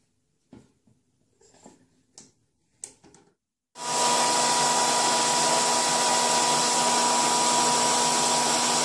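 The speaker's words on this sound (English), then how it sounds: "I'm going to get under my hooded dryer" A hooded hair dryer switches on after a few quiet rustles and handling sounds, then runs as a loud, steady, broadband whoosh with a constant motor hum that stays unchanged to the end.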